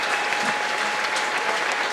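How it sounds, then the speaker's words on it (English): Polite clapping from the crowd at one end of a football ground during a Bath City versus Slough Town match, a steady, moderately distant patter of many hands that carries on without a break. "There's some polite clapping from the Bristol end of the ground"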